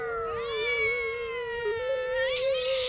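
A frightened cat hidden in a cupboard gives a drawn-out, whining growl-like yowl, close and fairly loud, rising in pitch near the end, with no talking over it.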